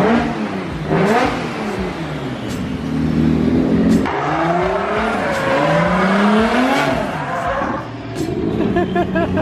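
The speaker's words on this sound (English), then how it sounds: "That shit does not even sound like a BMW motor." A loud BMW E46 M3 drift car engine revs repeatedly, pitch sweeping up and down through several throttle blips, with a rough, aggressive tone close by.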